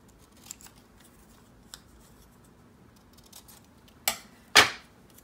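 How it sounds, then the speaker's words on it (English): Scissors snip through glossy 1987 magazine pages for a collage, giving two sharp close cuts near the end after a few faint paper rustles in a quiet room. "I'm going to cut all of these apart."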